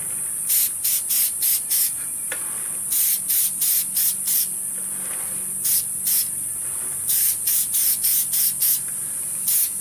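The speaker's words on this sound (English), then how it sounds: "go ahead and spray the area around it a little bit" Short bursts of an aerosol spray can laying a sealant tack coat over a painted tiger's face sculpture, about a dozen hissing sprays in three clusters, close and fairly loud over a quiet room.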